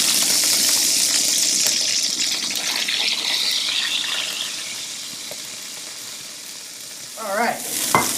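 Beef rouladen sizzle in hot oil in a pan, a bright continuous frying hiss that slowly fades, then a brief scrape and clatter near the end; no talk.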